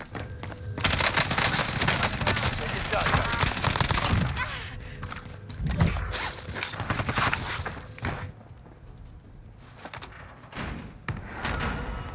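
Hostile fire in Call of Duty Warzone: loud, close bursts of rapid automatic gunfire, with dense volleys that come and go in waves and pause briefly between clusters.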